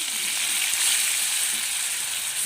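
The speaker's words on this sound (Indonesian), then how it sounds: "Ini saatnya kita masukkan bumbu yang sudah kita haluskan tadi ya." Ground spice paste for sambal tempe sizzles in hot oil, a continuous bright hiss and crackle of frying heard close up with no talking.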